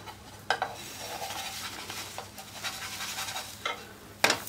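An eggless mango pancake is turned over in a pan with scraping and clinks of a spatula against the metal, a soft steady sizzle running underneath, close and fairly quiet.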